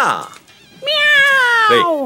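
A loud, drawn-out synthetic meow with a steady tonal whine, preceded by a brief voice and short noises; sounds like an electronic toy tiger meowing like a cat.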